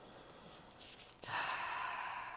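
One deep breath, a soft, faint inhale that swells into a longer, breathy exhale, close and alone.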